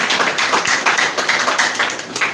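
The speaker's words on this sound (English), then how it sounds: "Can you clap for it, please?" An audience claps at a student event in a hall, with dense, continuous applause running for a couple of seconds.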